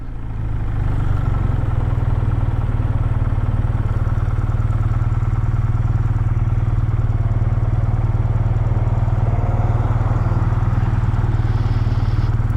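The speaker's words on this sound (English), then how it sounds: "The exhaust sounds great." A 2026 BMW R12 G/S motorcycle cruising at highway speed gives a steady, loud engine and exhaust drone that holds an even low rumble the whole time, with no talking.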